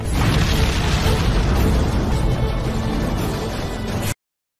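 An animated black thunder fireball explodes: a loud, sustained roaring blast with deep rumble that fills about four seconds before cutting off abruptly into silence.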